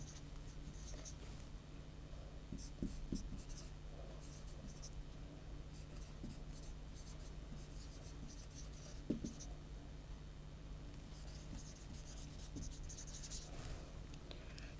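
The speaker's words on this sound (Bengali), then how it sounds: "লিখে দিচ্ছি এখানে" Faint scratching of a pen or pencil writing names by hand, in short intermittent strokes over a steady low hum, with no talking.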